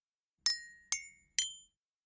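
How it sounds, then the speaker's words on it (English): A teaspoon gently taps a glass of water three times in slow, even succession, each clear ringing clink decaying quickly in otherwise quiet surroundings. "I have a glass of water and I'm gently tapping it with a teaspoon"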